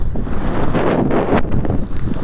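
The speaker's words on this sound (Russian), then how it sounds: "У нас поднялся сильный ветер" Strong wind buffets the microphone with a loud, continuous roaring rumble that swells and gusts throughout, no voices present.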